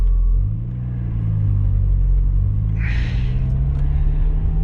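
Mazda Miata car driving off at night, a steady low engine rumble and road noise from inside the cabin, with a brief brighter swish midway.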